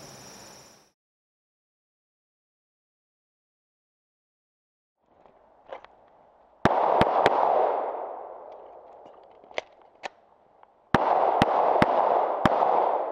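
A Walther PPQ M2 9mm pistol fires at an outdoor range with steel targets: about nine sharp, loud shots in uneven bursts, some closely spaced, over a steady rushing background.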